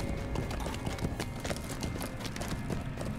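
Goat mount hooves clop steadily in Lord of the Rings Online, a quick continuous rhythmic patter of footfalls under a dense game soundscape.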